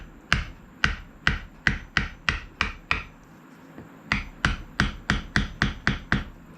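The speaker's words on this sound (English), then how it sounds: "Using my little hammer, I don't want to put a lot of pressure on there and bend that tip." A small hammer taps Alabama Damascus steel knife parts into place with light, sharp, evenly spaced strikes, about twenty in two quick runs separated by a short pause. The taps are close, clear and alone.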